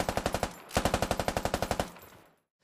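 FN MAG 7.62 heavy machine gun in the tactical shooter Squad, fired in two sustained bursts of rapid, evenly spaced loud shots, the second longer, with a short tail of echo as it stops.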